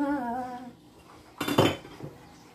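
Flour and sugar being stirred together in a bowl for a barbecued flank steak recipe: a short burst of scraping and clinking around the middle, then a softer knock, with no talk.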